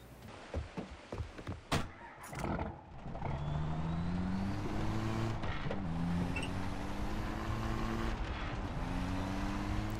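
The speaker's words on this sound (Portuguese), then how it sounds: "vou pegar esse caminhão e bora lá então" A truck engine in Far Cry 3 drones loud and steady as the vehicle drives off, its pitch stepping up and down through gear changes, after a few sharp clicks and knocks at the start.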